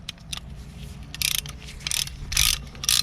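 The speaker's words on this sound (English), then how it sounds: "in between the calipers and ratchet it." A ratcheting brake caliper compression tool works on a 2014 Ford F-150, giving bursts of quick metallic clicks in several loud, close groups with short pauses between them.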